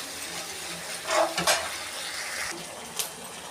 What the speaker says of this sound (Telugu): అల్లం వెల్లుల్లి పేస్టు రెండు స్పూన్లు బాగా వేగనిద్దాం